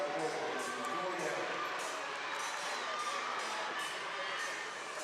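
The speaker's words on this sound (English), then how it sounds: "The audience now in front of her home crowd cheering her on." Home crowd at a climbing competition, the IFSC European Championships combined finals in Moscow, cheering a climber in a steady, dense roar with shouts and whoops, a commentator talking over it.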